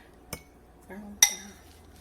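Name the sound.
spoon spreading crumble topping onto blueberry crisp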